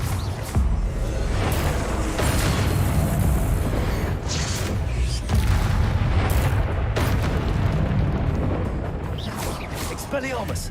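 Repeated Confringo fire-spell blasts in Hogwarts Legacy come as deep booming explosions over a constant low rumble of game combat, several bursts spread across the stretch.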